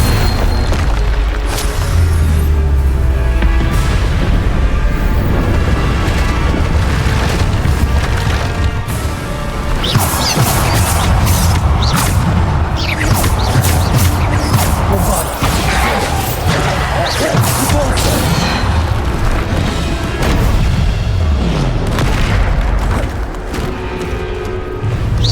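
Repeated explosive booms and crashing impacts from Bombarda spell blasts during combat in the video game Hogwarts Legacy, loud and dense, layered over constant battle noise and effects.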